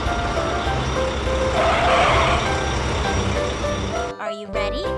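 A cartoon drill truck rolls along with a steady engine rumble and a rising whoosh midway, a short reversing-beep-like chirp, then a brief break before a bright musical sound in the final second.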